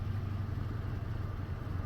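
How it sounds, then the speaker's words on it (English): A Toyota FJ engine idling roughly, a dense low rumble with an uneven, slightly shaky pulse, close and steady throughout with no talking. "It's idling very bad, very poor."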